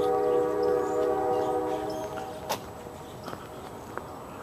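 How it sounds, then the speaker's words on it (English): A train rumbles far off, a long steady horn tone sounding over the low roar, with a few faint knocks nearby. "And you can hear that. That's a train."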